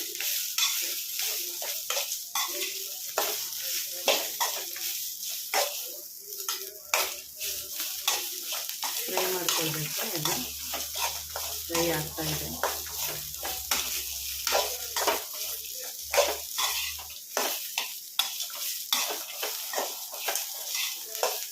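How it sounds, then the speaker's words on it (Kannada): Coriander leaves frying for hotel-style keema sambar give a steady, close sizzle with repeated scraping stir strokes, a low hum joining midway, and no talk. "ಕೊತ್ತಂಬರಿ ಸೊಪ್ಪು ಹಾಕ್ತಾಯಿದ್ದೀನಿ ಎಲ್ಲ ಫ್ರೈ ಮಾಡ್ಕೊಳ್ಬೇಕು"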